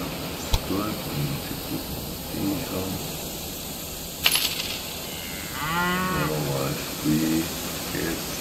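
Cattle mooing at a slaughterhouse in the Railway Empire 2 train management game: several low, drawn-out moos around the middle and end, with a couple of sharp coin-like clicks over soft game ambience and faint background talk.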